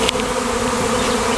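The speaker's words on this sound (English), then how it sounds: "So I'm going to set my microphone down right near the bees." A dense, steady buzz of many honey bees swarming close by, droning continuously without a break.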